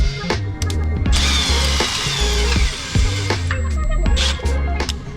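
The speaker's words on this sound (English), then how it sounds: "I'm gonna start drilling." A power drill bores through a steel fixture held by a set screw and drill guide, a loud, steady close whine with grinding and chattering that briefly dips and surges as the bit bites.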